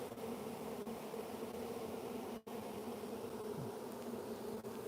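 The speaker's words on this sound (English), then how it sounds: "Beautiful bees." A honey bee swarm high up in a tree hums in a dense, steady drone as bees fan hard at the hive entrance, sounding close and continuous with no voices.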